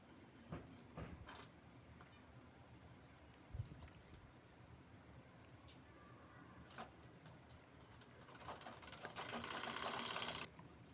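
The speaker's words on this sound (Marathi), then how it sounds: "परत त्याच्यावर दाबटीप द्यायची आहे" A sewing machine topstitches along a bag lining, a faint stretch of quiet handling and light taps giving way to a short, dense whirring run of stitching near the end.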